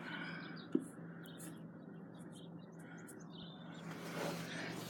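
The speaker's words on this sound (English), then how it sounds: "he hears chirping. And there's baby birdies out there" Baby birds in a nest chirp and tweet in thin high bursts at a distance over a low steady hum, with one sharp click early on.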